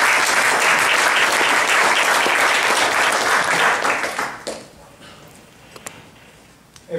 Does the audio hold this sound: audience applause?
yes